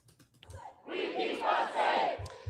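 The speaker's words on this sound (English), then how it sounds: "It is a passionate crowd listening to some speakers following along in chants." A large, passionate protest crowd chants along with speakers. After a few scattered voices, loud massed shouting swells and holds in two rising waves before easing off.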